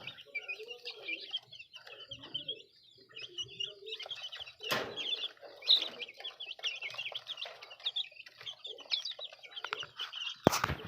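Small chicks chirp in a steady, busy chorus of high peeping calls close by, with a couple of brief louder knocks or flaps breaking through near the middle and end.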